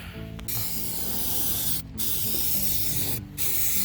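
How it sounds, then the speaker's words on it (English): Automotive primer hisses from an aerosol spray can in three steady bursts with two brief pauses, coating a rusted fuel tank frame on a 1994 Ford F-150; close and fairly loud, no talk. "So I'm just gonna go ahead and put a light coat of primer on this."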